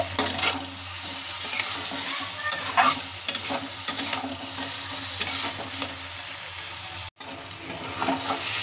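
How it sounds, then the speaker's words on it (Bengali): Fried bottle gourd pakoras being stirred into sizzling masala in a pan, a steady close frying hiss with repeated scraping stir strokes, heard alone without talk. "মশলার সঙ্গে কিন্তু পাকোড়াগুলো আলতোভাবে নাড়তে হবে, বেশি জোরে নাড়লে ভেঙে যেতে পারে।"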